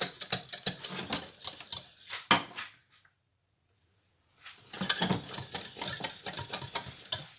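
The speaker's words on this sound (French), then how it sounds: "Faut remuer. Faut que ça cuise bien." A spoon stirs gravy sauce in a cooking pan, with rapid scraping, sizzling strokes that stop for about two seconds of silence before resuming at the same brisk pace.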